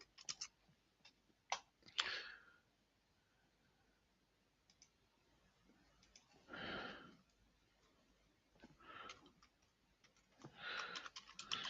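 Soft keyboard typing comes in scattered bursts of quick clicks separated by quiet pauses, close and fairly faint.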